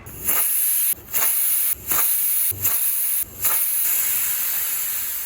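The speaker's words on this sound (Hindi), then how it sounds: "बची कुची हवा भी हमने कुकर से निकाल दिए है" Loud, sustained hissing of steam venting from a pressure cooker of chana dal, broken by five brief pauses before fading slightly.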